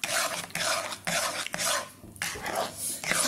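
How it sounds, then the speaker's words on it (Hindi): Sugar is stirred into atta halwa in a pan with rhythmic scraping strokes, each swish close and fairly loud, repeating roughly every half second with a brief pause midway. "अब मैं इसे मिला लूंगी गैस चला के, इन शुगर मुझे सिर्फ इसे मिक्स करना है।"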